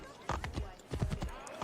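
Horse hooves clop in a steady gallop rhythm in the video game Assassin's Creed 3, moderately close and mixed with ambient game sounds and a brief high chirp.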